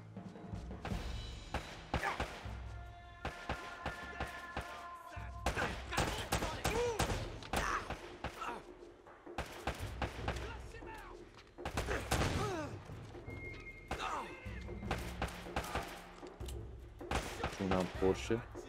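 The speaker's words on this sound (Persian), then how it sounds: "یه صدای شلیک اومد" Gunfire in Uncharted on PlayStation 3, repeated bursts of shots and heavy thuds with music and effects, while a player talks over the action.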